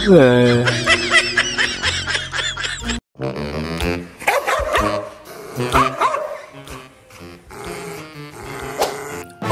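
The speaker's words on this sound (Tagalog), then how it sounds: "Lagi mo akong kinakahulan." A dog barks and growls in short bursts among music-like tones and other sounds, with someone talking over it in Filipino.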